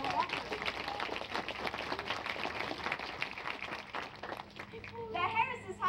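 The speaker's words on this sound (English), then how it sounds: "Let's give him a round of applause for that." Audience clapping at an outdoor bird-of-prey show after a Harris's hawk's catch attempt, a steady wash of applause with children's voices mixed in, easing off near the end.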